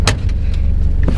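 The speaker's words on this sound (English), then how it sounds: "kick the throttle pedal 2-3 times so we have fuel going through the lines, and then start it up. First time starting up," A Porsche 944 starting up for the first time makes a loud, close, deep engine rumble that runs throughout, with a couple of brief mechanical clicks on top and no talk.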